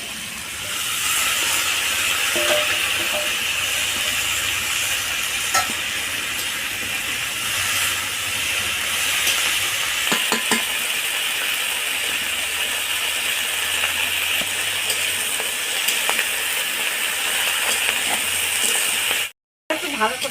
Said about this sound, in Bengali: সবজি মোটামুটি কষা হয়ে গেছে ভাজা হয়েছে